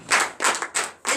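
A church congregation clapping in acclamation at a night deliverance service, four loud, sharp bursts in a quick rhythm, close and without talk.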